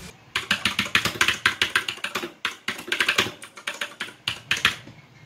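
Rapid clattering key presses on an Armaggeddon MKA-3C Psychfalcon keyboard, close and crisp, in quick bursts of typing with short pauses between them.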